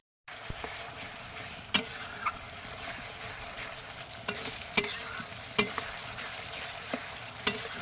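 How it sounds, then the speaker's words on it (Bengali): Ginger, garlic and green chili paste fries in a pan with a soft continuous sizzle, broken by repeated sharp scraping clicks as a spoon stirs it, close and unaccompanied by talk. "দিয়ে দেবো মশলা, আদা বাটা, রসুন বাটা, কাঁচা লঙ্কা বাটা দিয়ে ভেজে"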